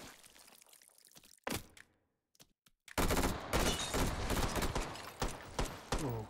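Gunfire in the VR shooter Hot Dogs, Horseshoes & Hand Grenades, a brief shot burst, a near-silent pause, then a loud dense volley of rapid shots continuing to the end.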